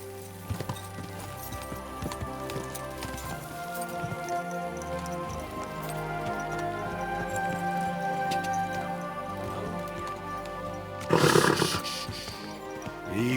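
Horse moving in the video game Kingdom Come: Deliverance II, with soft steady hoof clip-clop over a game music and ambience bed, then a brief louder burst near the end.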